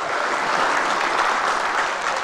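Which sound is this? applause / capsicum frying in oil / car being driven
applause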